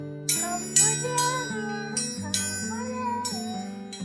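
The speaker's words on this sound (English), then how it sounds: "You heard that. The bell rang. Time for dinner." A bright dinner bell rings several times in quick succession, clear and close, its metallic tones overlapping and ringing on between strikes.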